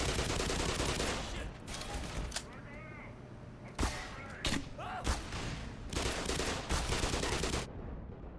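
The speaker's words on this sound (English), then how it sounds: "Oh, that was a well-placed grenade." Video game firefight with bursts of rapid automatic gunfire and a sharp grenade blast, loud and close, broken by short pauses, with a voice talking over parts of it.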